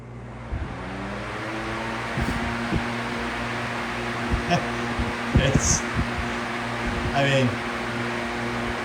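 A Vornado Model 80 electric fan spinning down, giving a steady whooshing airflow and motor hum that carry on throughout, with a few soft knocks and clicks on top.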